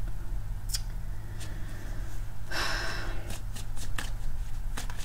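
Tarot cards shuffled and pulled by hand, with a brisk riffling burst in the middle and several short crisp snaps and slides around it, close and alone over a low steady hum.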